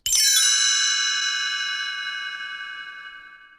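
A single bright chime rings out clearly, its shimmering tones sustaining and slowly fading over several seconds, used as a page-turn signal for a read-along storybook.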